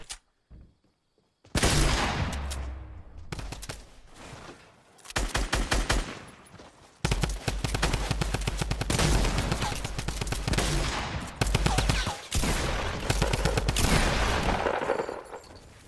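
Rapid video game gunfire with heavy bursts and shotgun blasts, loud and nearly continuous after a quiet opening second, with dense volleys and brief pauses between them.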